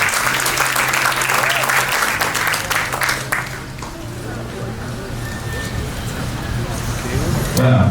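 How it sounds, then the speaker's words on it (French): Audience applause and cheering at a Haitian cultural birthday celebration on 8 March, steady dense clapping for the whole stretch with a low droning hum underneath and some voices mixed in. "Vos acclamations une fois de plus."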